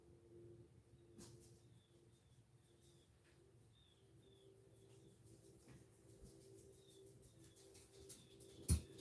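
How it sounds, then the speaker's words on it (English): Faint birds call in the distance, short high chirps repeating every second or so over a low steady hum, with one sharp knock near the end. "Y'all hear the birds?"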